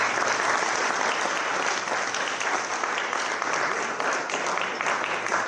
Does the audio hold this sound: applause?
yes